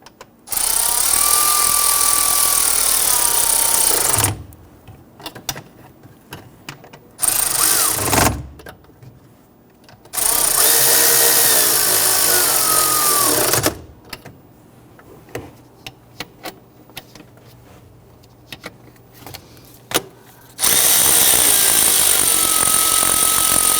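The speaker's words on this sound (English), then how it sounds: "you can go ahead and switch over to your power tool if you have one" A power tool whirs loudly in several long bursts, each several seconds, tightening bolts while replacing the oil pressure switch on a 2011-2015 Kia Sorento, with quieter gaps holding faint clicks and rattles between them.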